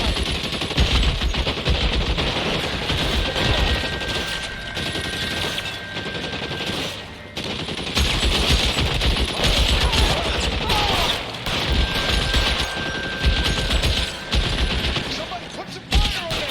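Rapid bursts of automatic gunfire in an L.A. Noire video game shootout, dense and continuous across the whole stretch with brief lulls, loud and close, with shouted voices now and then.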